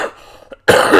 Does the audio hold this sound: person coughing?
yes